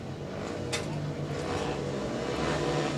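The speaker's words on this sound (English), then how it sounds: "There we go, bikes revving" Speedway motorcycles rev together at the start gate of a National Trophy heat between Plymouth and King's Lynn, a dense, sustained engine roar rising and falling with throttle blips, loud and close.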